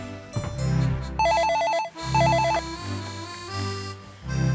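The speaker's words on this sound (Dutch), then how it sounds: "Oh, telefoon." A telephone rings in a Sinterklaas-themed magician's room, two loud electronic trilling bursts separated by a short pause over background music, with no talk during the ringing.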